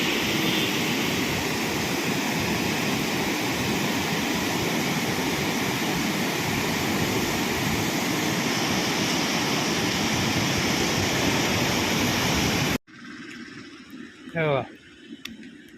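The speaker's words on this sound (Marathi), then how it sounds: "सगळं भरून वाहते दुथडी भरून वाहते नदी" An overflowing river rushes full to both banks in heavy flood, a loud, dense, continuous roar that cuts off abruptly near the end, leaving a brief quiet moment with a voice.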